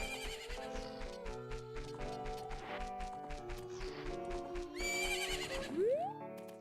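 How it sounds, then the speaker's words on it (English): A horse whinnies in the video game Ocarina of Time, a loud, clear neigh rising and falling over a bright, looping melody of game music, with a sharp upward synth sweep near the end. "Horsey."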